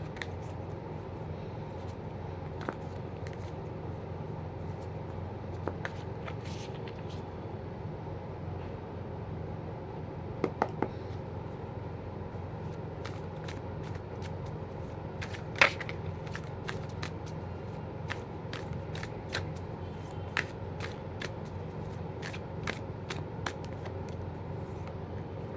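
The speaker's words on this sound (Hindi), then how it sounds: "अगर आप में से कोई ऐसा हो जिनको कार्ड शफलिंग देखना पसंद" Playing cards riffled and shuffled over and over, a steady soft papery riffle with occasional sharper snaps and clicks, close and alone with no talk.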